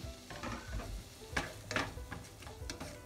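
Onions and tomato sautéing in a pan for pav bhaji, with a quiet continuous sizzle broken by several scraping stirs of a utensil against the pan, close up and with no talking.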